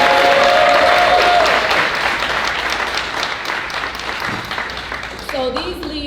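Audience applause at an Emerging Leaders commencement ceremony in St. Petersburg, a dense wash of many hands clapping loud and steady throughout, fading slightly toward the end, with a voice briefly heard over it.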